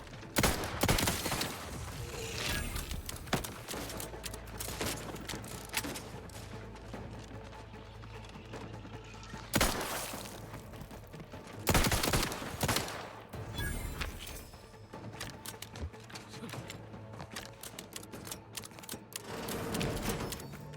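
Gunfire in the shooter video game Outer Worlds 2: irregular bursts of sharp shots and rattling volleys over about twenty seconds, with a few louder cracking blasts standing out from the clatter.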